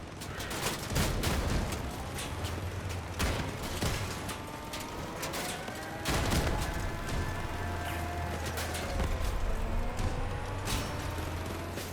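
Vehicle-mounted shotguns fire in the Crossout combat game as sharp, repeated blasts in irregular bursts, with mechanical clanks and engine drone running underneath throughout.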